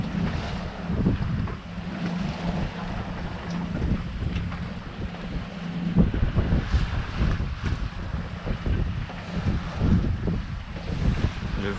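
Wind of about 11 knots buffets the microphone in gusty rumbles over the hiss of water along a moving sailboat near Fréjus, France, steady and close with no talking.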